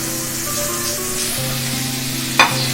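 Onion and capsicum sizzle in a hot frying pan for a beef steak dish, a close, steady hiss with a brief sharp crackle near the end and no talking.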